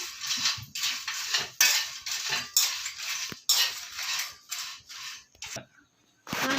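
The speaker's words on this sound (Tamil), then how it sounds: "பச்சை பட்டை வந்து கொஞ்சம் கொஞ்சமாக போட்டு வறுக்கணும்" Cinnamon sticks being dry-roasted in a pan for homemade biryani masala, giving repeated scraping and clinking of a spoon against the pan in short bursts, close and fairly clear, with no talk.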